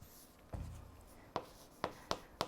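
Math being written on a board: one longer scraping stroke, then four sharp, evenly spaced taps of the writing tool, quiet and close with no talk.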